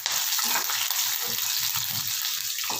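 Curry leaves and dried red chillies frying in oil for lemon rice, a steady close sizzle with bubbling, popping crackles and occasional low knocks from the pan throughout.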